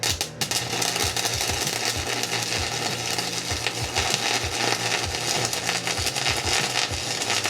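A welding bead is laid on a metal dumbbell, giving a steady, harsh crackling buzz with rapid irregular pops, close and continuous for several seconds.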